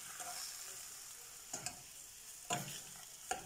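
Chopped paneer being stirred into a sizzling stuffed capsicum filling in a pan, with a steady soft frying hiss broken by a few sharp scraping knocks of the spoon, close up and with no voice.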